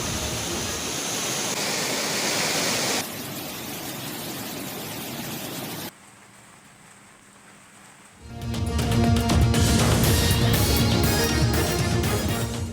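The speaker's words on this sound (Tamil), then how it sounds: "சுருளி அருவியில் வெள்ளப்பெருக்கு." Suruli waterfall in flood after heavy rain roars with a dense, steady rush of falling water, shifting in level as the view changes, dipping quieter for a stretch and then surging back loud and close.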